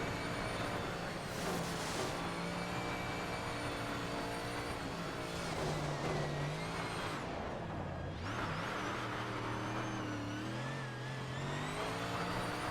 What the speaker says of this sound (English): The engine makes it sound like a monster truck.